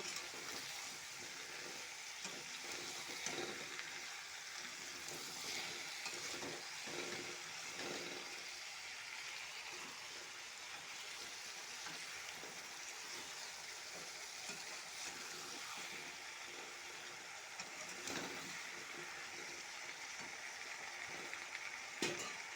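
Chopped bottle gourd fries in a pan with salt and turmeric, a faint, continuous sizzle broken by occasional scraping stirs over a long stretch, with no voices.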